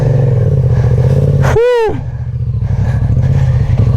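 A light motorcycle of about 200 kg idles and rumbles steadily nearby, with a brief rising and falling tonal whine cutting through midway before the low engine burble resumes.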